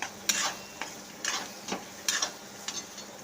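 Chopped tomato stirred into a hot tempering in a pan for zunka: a series of spaced scraping strokes, fairly close, over a faint background sizzle, with no talk.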